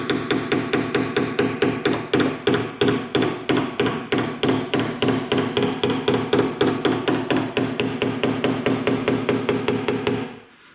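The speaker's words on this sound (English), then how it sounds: "This hammer." A small hammer taps rapidly and rhythmically on the metal of a Pontiac Solstice during paintless dent repair, dozens of crisp close strikes in an even stream before stopping abruptly.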